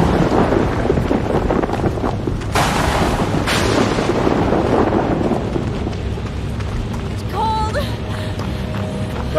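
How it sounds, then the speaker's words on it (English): Thunder crashes and rumbles through steady rain during a storm in the horror game Outlast 2. A sharp burst and a loud crack land early, then a long, heavy roll of thunder follows, and faint tonal game sounds come near the end. "Storm's getting worse."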